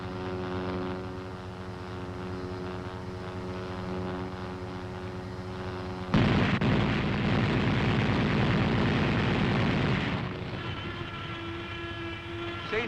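A .50 caliber machine gun fires from an M551 Sheridan airborne assault tank in 1969, a loud continuous rattling burst that sets in abruptly over a steady droning engine and then eases off, with no voices.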